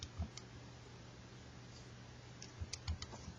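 Soft plastic keys on a graphing calculator are pressed in a few quick, faint clicks, scattered in short bursts over a quiet room hum.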